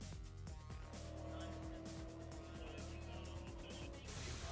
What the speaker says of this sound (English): This is a prototype racing car. It's very light, very fast, and very expensive.